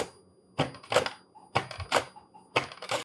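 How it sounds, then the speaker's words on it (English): Potatoes sliced on a kitchen mandoline, three sharp rhythmic clacking strokes about one second apart, close and clear with no voice. "I have a mandolin here, which I'm going to use to slice."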